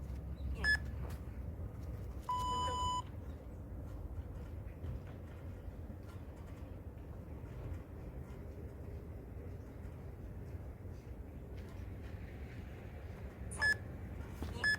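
An interval timer set for a pull-up workout of twenty sets of ten gives a few short electronic beeps and one longer sustained tone, spaced apart over faint indoor background noise, with no voices.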